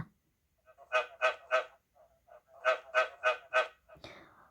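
A teacher vocally mimics a frog croaking with rhythmic, evenly spaced pulses in two groups of three and four. The croaks are close and fairly soft against near silence.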